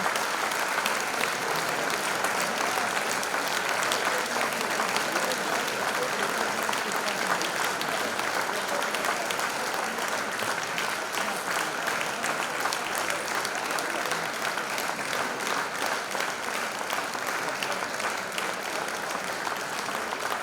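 Audience at a municipal holiday ceremony in Trbovlje applauds steadily for about twenty seconds, a dense, even clapping from a large crowd with no talk over it.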